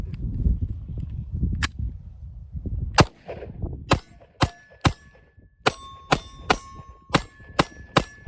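Rifle shots fired over iron sights, a string of sharp, loud cracks, several spaced out and then a quicker run of about eight, each ringing with a brief metallic ping, after a stretch of low rumbling handling noise.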